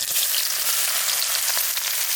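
Chopped onions hit hot white oil with cardamom and cloves, producing a loud, dense, steady sizzling hiss up close.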